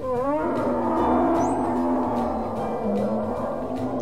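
A bear's deep, sustained roar rumbles loudly and close for about four seconds, alone without any talk, in a children's Portuguese vowel-alphabet lesson.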